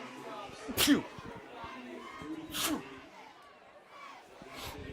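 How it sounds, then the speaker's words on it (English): A sports commentator's sharp sneeze bursts out near the start, with a second, smaller one a couple of seconds later, over a low background of game crowd noise and a talking voice. "A little sneeze caught me there, and my apologies."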